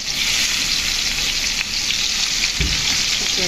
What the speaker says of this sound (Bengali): আমি এখন চিংড়ি মাছগুলো ভেজে নেব